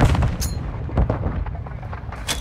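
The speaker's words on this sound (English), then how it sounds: "I hit him with a nade." A grenade blast in Modern Warfare 2 multiplayer, a loud close boom with a rumbling low tail, followed by scattered gunfire cracks and faint combat noise.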